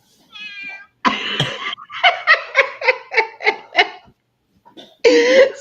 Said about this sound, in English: I think that was her meowing.